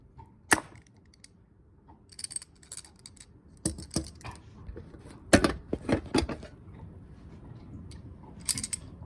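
A carbon fiber tanto folding knife being deployed and worked by hand, giving a series of sharp, close mechanical clicks and snaps spaced irregularly over faint background quiet.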